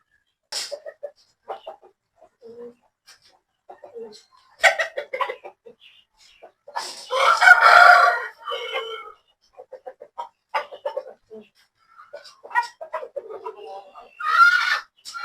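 Caged chickens clucking in short bursts with a rooster's crow rising midway, close and fairly loud, broken by brief quiet gaps.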